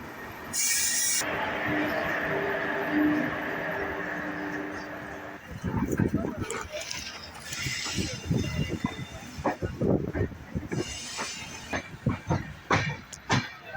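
An AC double-decker passenger train from Chennai Central to KSR Bengaluru rumbles and clatters steadily after a brief hissing burst, with a person talking over the rhythmic rattle.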